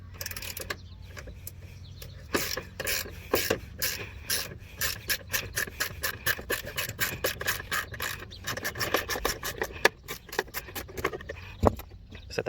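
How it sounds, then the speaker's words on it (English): An 8mm ratchet loosens the tail light bolts on an Acura RDX, giving rapid clicking pawl bursts and rubbing metal scrapes in uneven spurts, close and clear, with no talking. "Take your 8mm ratchet."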